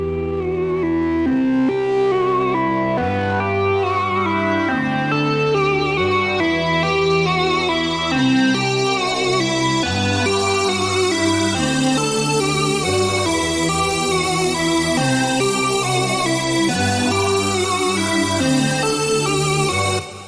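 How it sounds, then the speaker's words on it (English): A dense synth sequence loop from a Serum preset pack, built on a rhythmic bass line with layered pulsing melodic notes, plays steadily and loud for the whole stretch without any voices. "this is a loop actually from the NextGen presets for Serum package"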